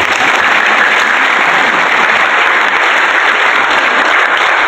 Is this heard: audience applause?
yes